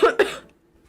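A girl coughs twice in quick succession, close and fairly loud, followed by near silence.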